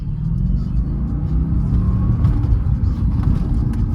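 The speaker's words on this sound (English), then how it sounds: "let's go ahead and rip a gear through here real quick" Cadillac CTS-V with very low mileage pulling hard through a gear, a loud, steady, close engine roar held throughout with no break.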